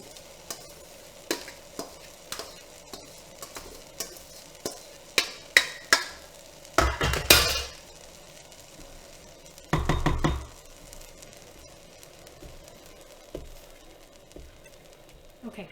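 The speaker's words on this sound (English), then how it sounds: "Now I've added the vegetables, so of course it's no longer boiling because that was room temperature." Chopped vegetables for zucchini relish are tipped into a pot of boiling liquid, with a run of light knocks and stirs building to two loud rushing splashes, then quiet bubbling.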